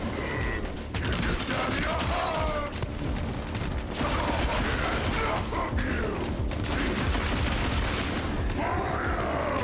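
Dense, continuous gunfire and mechanical clatter from the video game Evil West, loud and busy throughout with creaking and booming impacts layered in, no clear voice on top.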